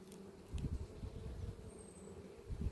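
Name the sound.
honeybees buzzing inside a hive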